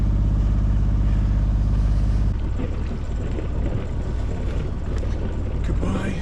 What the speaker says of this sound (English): This engine runs amazingly well